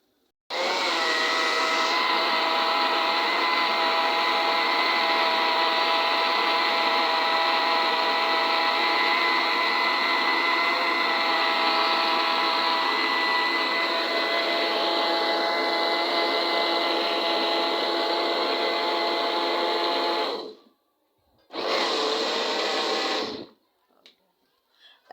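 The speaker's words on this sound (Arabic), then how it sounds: "بعد كده بتضربهم في الخلاط" A blender motor whirs loudly and steadily for about twenty seconds grinding sesame seeds, flour and oil for tahini, stops briefly, then runs again in a short burst before cutting off.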